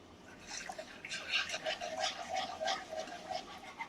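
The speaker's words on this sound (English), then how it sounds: "Pour it in slow. Keep whisking as you're pouring it in." A whisk works stock into a roux, giving a soft rapid liquid swishing and clinking that runs steadily for a few seconds, fairly quiet and close.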